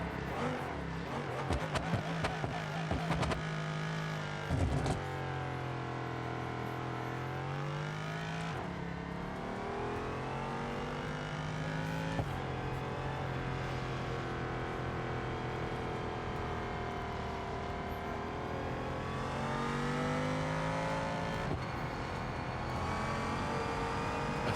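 Sustained car engine revving in a racing video game, with rising and falling engine pitch and gear shifts held near and loud throughout, alone without talk.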